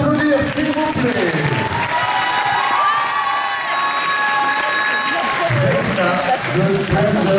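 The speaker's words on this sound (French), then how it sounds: "On peut l'applaudir, s'il vous plaît." A crowd at the Mang'Azur 2024 cosplay contest prize ceremony claps and cheers steadily for a third-place individual winner, with shouts and voices mixed into the continuous applause.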